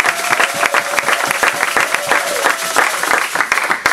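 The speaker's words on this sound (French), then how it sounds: "Est-ce qu'on peut acclamer pour la gloire du Seigneur?" A church congregation breaks into sustained applause, many hands clapping densely and loudly in a reverberant hall, steady throughout with faint crowd voices mixed beneath.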